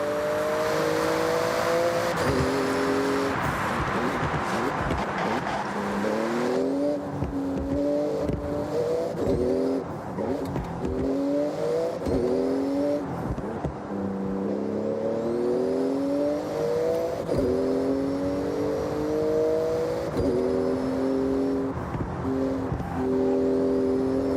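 A Porsche in the Forza Horizon racing game revs hard through a speed zone, its engine climbing through repeated gear shifts in a loud, continuous run with no talk.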